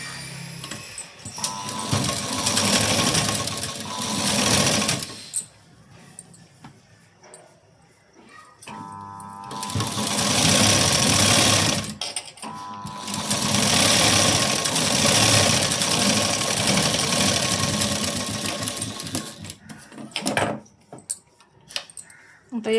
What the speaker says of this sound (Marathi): आता या बाजूला सुद्धा मी शिलाई देऊन घेते